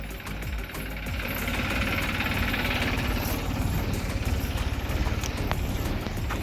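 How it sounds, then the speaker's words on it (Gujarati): A tractor engine running loud and close on a farm, a steady rapid knocking diesel chug that continues without a break. "આપણે ઓલું ટ્રેક્ટર આવી ગયું છે"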